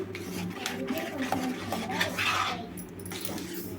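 A spoon stirs ghee into a sweet mixture in a pan, soft continuous scraping and light metallic clinks moving in an uneven rhythm at close range under a steady low hum.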